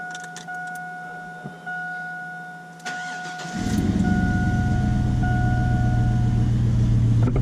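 A 2002 Chevy engine cranks to purge fuel after a fuel filter replacement, first a thin electrical whine with brief clicks, then a loud, low, rumbling start that settles into a steady close idle.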